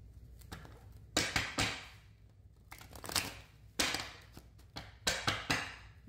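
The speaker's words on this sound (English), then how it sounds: "we're going to go ahead and shuffle these cards five times" Tarot cards shuffled by hand in repeated bursts of riffling and slapping, each flurry separated by short pauses, close and fairly quiet with no talking.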